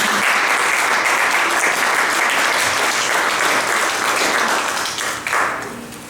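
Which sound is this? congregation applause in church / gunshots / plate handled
congregation applause in church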